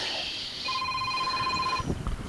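A mobile phone rings outdoors during an ice fishing outing, a single sustained electronic tone over a steady background hiss, followed by a brief rustle.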